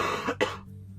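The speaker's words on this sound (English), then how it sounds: "Trying to like mute my coughs as best as possible" Two quick, close coughs in rapid succession from one person, the second sharper, followed by a short trailing breath and then quiet.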